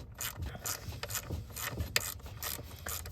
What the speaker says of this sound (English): now I'll start removing that. It's an 8mm socket.